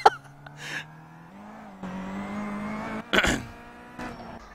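A Kia race car in an iRacing session at Brands Hatch drones through its revs while bursts of tire squeal and skidding noise break in, close and fairly loud, with no talk.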